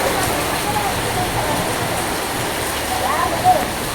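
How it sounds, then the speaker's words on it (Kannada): Heavy rain in April pours down steadily outdoors, a constant broadband wash of hiss with no break, near and fairly loud throughout. "ಈ ವರ್ಷ ಏಪ್ರಿಲ್ 12ಕ್ಕೆ ಮಳೆ ಆಗಕತ್ತೈತಿ. ದೊಡ್ಡ ಮಳೆ."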